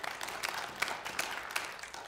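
Brief, moderately quiet applause from a church congregation, a soft burst of clapping lasting about two seconds with no one speaking.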